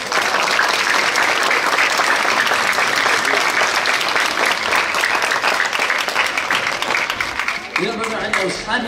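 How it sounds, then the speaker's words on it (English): Sustained applause from a large audience at a religious birth celebration for Imam Mahdi, dense and steady for several seconds and thinning toward the end, with voices mixed in beneath the clapping. "Can we give brother Ali a round of applause?"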